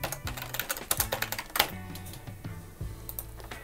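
Rapid typing on a computer keyboard, close and crisp, with irregular bursts of key clicks and a heavier keystroke midway, no talk.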